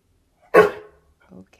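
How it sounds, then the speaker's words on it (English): A dog barks once indoors in a house, a single sharp loud bark, followed by a quieter brief sound. "You can't just have a dog walking upright like that in the house and not warn me ahead of time."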